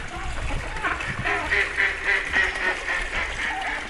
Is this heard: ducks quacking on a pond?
yes